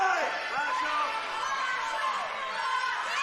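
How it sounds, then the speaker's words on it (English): Live crowd at a QWA wrestling event in Townsville, a dense wash of cheering and chatter urging a wrestler on, continuous and fairly loud, with voices mixed throughout. "You can hear the crowd trying to egg him on."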